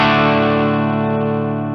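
An electric guitar rings out through a Mooer GE200 multi-effects unit with heavy distortion, sounding as one loud sustained chord that slowly fades, with nothing else playing.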